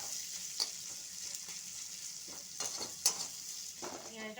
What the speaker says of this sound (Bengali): এগুলো আমি ভেজে নিচ্ছি।